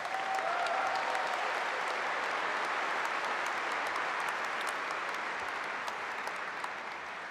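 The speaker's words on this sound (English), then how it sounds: "Please give them a round of applause." Audience applause at the Centennial High School Class of 2023 graduation ceremony, a steady wash of many hands clapping that holds at an even level throughout and thins slightly near the end, with no voices over it.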